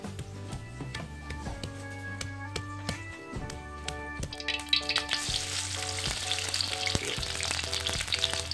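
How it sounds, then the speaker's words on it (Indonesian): Jengkol beans, lightly pounded first, fry in hot oil in a pan, giving a steady close sizzle with occasional clicks and stirring clatter that grows louder and brighter partway through. "Kita goreng jengkolnya."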